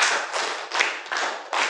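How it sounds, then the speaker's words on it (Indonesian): A class of eighth-grade students in a classroom clapping together in a quick, fairly regular burst of hand claps, close and brisk, with no speech. "tepuk tangan buat kelompok satu"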